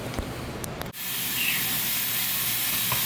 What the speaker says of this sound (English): Get the beef sizzling up.